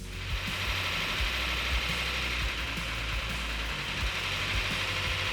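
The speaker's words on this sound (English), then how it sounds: "we have to let it run long enough to open up the thermostat, get it up to operating temperature" Rebuilt 1971 Plymouth Barracuda engine idling after fire-up, a steady low rumble with a faint ticking, running alone and unbroken at close range.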